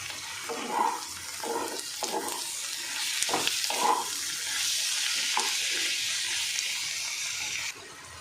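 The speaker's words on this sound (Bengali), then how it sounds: "নুন হলুদ মাখানো চিংড়ি মাছগুলোকে এর মধ্যে দিয়ে দেবো, দিয়ে হালকা করে ভেজে নেবো" Prawns rubbed with salt and turmeric fry lightly in a pan; soft scrapes and stirring knocks give way to a swelling hiss of sizzling that cuts off abruptly near the end.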